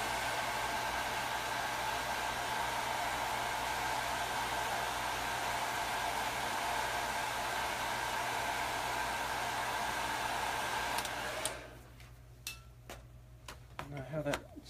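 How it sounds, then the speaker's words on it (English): A hair dryer used as a heat gun blows steadily to dry paint on a weathering model, a constant close whooshing drone that cuts off near the end, followed by faint clicks and handling noises. "I'm going to use the hair dryer, the heat gun, to dry this off so you can see."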